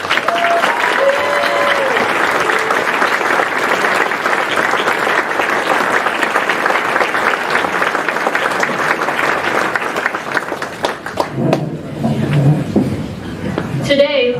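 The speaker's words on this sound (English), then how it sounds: "be recognized with a well-deserved round of applause" A large banquet crowd at an Air Force Airman Leadership School graduation applauds the graduates' spouses and families with loud, sustained clapping, some chuckling mixed in, the applause thinning and fading near the end.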